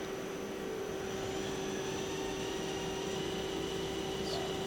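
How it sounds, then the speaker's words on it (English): Hardinge Talent 10/78L CNC turning center spindle spinning at 500 RPM in high gear, a steady close whine with a strong tonal hum over broadband machine noise, unchanging throughout. "Gear change to high. That's 500 RPM and high."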